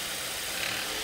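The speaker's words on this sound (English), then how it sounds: "Now let's hear that rattling noise, which should sound like this." A car engine rattles harshly from a loose or broken internal component, such as a piston. The noise is a steady, dense, gritty clatter heard up close for about a second, with no talking.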